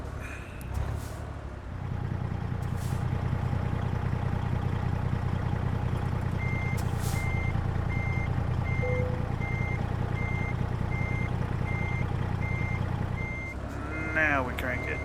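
A truck in American Truck Simulator reverses a trailer, with evenly spaced electronic backup beeps sounding over a steady idling diesel engine; a voice speaks near the start and again at the end.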